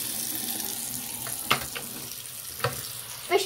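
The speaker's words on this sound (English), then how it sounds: "Let me do something with this flashlight. I'm gonna put it in water" Flashlight being put into water, with gentle splashing and a few sharp plops and sloshes of water against a quiet background, spaced at about three moments, without talk.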